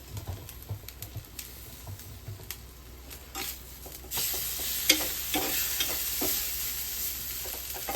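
Roasted chicken being stirred with sauce in a pan over a lowered flame: soft repeated scrapes and taps of a spoon, then from midway a louder, steady hiss of sizzling, with no one speaking.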